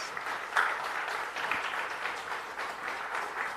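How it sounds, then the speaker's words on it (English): An audience at the Jamaica Diaspora Conference launch gives a round of applause. The clapping is soft and sustained, heard from a distance in a large hall. "I think they deserve a round of applause."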